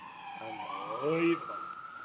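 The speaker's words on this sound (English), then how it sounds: "So many sirens tonight, eh?" A wailing siren at night rises and falls in pitch at a moderate distance, mixed with a voice speaking close by.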